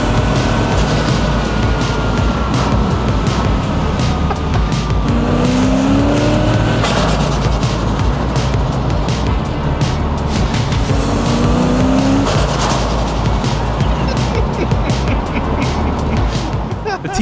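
A TVR sports car engine roars hard and continuously under hard acceleration, with rising revs and gear changes, loud and close throughout.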